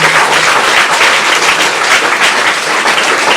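Engineering students at a college orientation in a classroom clap together: loud, dense, continuous applause close by, with no talking over it.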